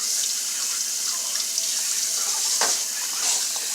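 Potato wedges are rinsed under a running kitchen sink tap, a steady close hiss of flowing water with a brief splashy change as the wedges shift.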